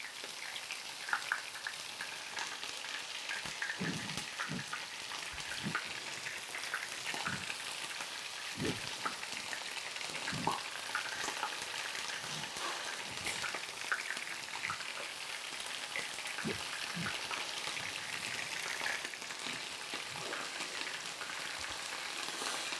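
Flank steak for beef Mongolian searing in a pan, a dense steady sizzle with scattered sharper pops and spatters throughout, close and continuous.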